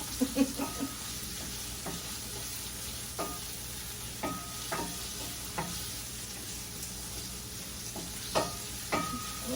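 Tomatoes, garlic and onion sizzle quietly and steadily in a pan, with occasional soft clicks and scrapes of stirring scattered throughout.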